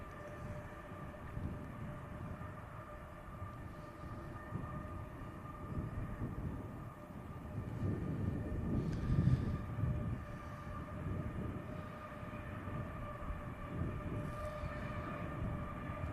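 An IndiGo airliner departs Manchester Airport bound for Delhi, a steady low engine roar with a sustained whine, swelling a little midway and heard from a distance without speech.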